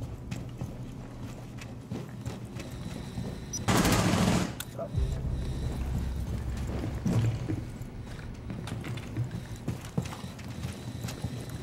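Gunfire in the video game Rainbow Six Siege during a team deathmatch on a presidential plane map, a short burst of rapid shots amid ongoing game noise and clatter, fairly loud.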